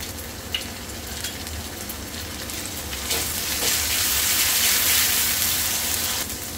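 Onion with ginger garlic paste sautéing in a pan for a fish thali, giving a steady, close sizzle and crackle that swells slightly louder midway, with no talking.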